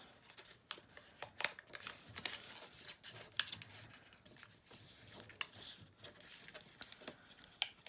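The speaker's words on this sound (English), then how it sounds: "So open up the flap, fold in the two sides." Origami paper being folded by hand: close, crisp crinkles and rustles with sharp creasing snaps, uneven and continuous throughout, with no talking.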